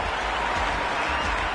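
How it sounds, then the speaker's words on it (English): Crowd applause and cheering at a cricket match in the video game Cricket 26, a steady broadband wash of clapping that holds for the whole moment with no break. "The crowd are loving every minute of this match."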